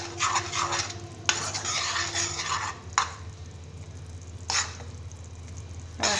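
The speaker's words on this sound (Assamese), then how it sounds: "গুড়ৰ লগত খুব ধুনীয়াকৈ জালুকৰ গুড়িখিনি আৰু ইলাচি গুড়িখিনি মিক্স কৰি দিছোঁ" Jaggery being stirred with ground black pepper and cardamom powder in a pan, with a steady scraping stir and soft sizzle, punctuated by a few sharper utensil clinks against the pot.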